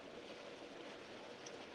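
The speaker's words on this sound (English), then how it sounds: "that one bubble jet is a bit too intense at the moment" Hot tub bubble jet running strongly: a continuous, faint rushing hiss of churning water and bubbles, steady with no pauses.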